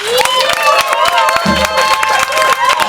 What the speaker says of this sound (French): Acclamez-la pour Jésus.